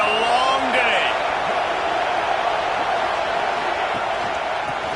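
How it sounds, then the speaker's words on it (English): Loud, roaring college football stadium crowd at an NCAA game involving Illinois, a dense, steady wall of cheering that persists throughout, with a commentator speaking over it. "This crowd, full throat, splitting the eardrums and letting them know it's going to be a long day."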